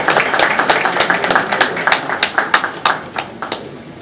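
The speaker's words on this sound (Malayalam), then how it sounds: "നല്ലൊരു കൈയടി കൊടുക്കുക." An audience gives director Sibi Malayil a welcoming round of applause at a film re-release event, a steady burst of many hands clapping with sharp individual claps standing out, fading slightly toward the end.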